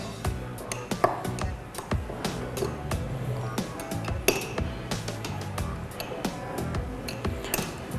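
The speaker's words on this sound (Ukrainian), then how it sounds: "Залиємо кипяточком. Перемішуємо." A spoon clinks repeatedly against a glass as a hot sea buckthorn sbiten drink is stirred, a bright tinkling rhythm of close metallic taps and rings.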